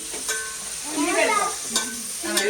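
Mutton frying and being stirred in a pan, a steady close sizzle with scraping stirs and a few sharp clinks of the utensil, no talking.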